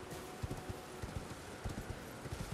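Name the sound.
horse Torrent's hooves clip-clopping in the video game Elden Ring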